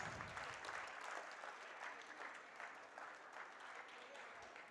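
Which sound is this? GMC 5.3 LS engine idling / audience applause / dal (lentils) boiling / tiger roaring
audience applause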